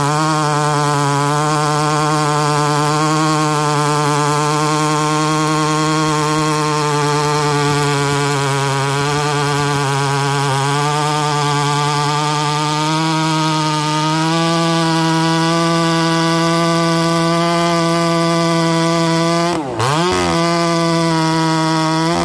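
A Farmertec 288 kit chainsaw with an oiler fault cuts through oak, its engine running loud and steady at high revs for the whole stretch, with a brief dip in pitch near the end.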